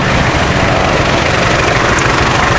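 Loud, constant engine rumble of cars idling close by in street traffic in the Philippines, a dense low drone without pauses or voices.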